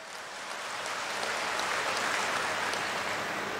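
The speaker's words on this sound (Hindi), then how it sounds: "उनका ताली बजा के स्वागत करें" Applause from a crowd at a political rally and public event in Panna, India, a broad steady clatter of clapping that swells slightly and holds, with no voices over it.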